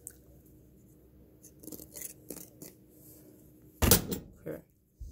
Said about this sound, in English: Or a really good pair of scissors.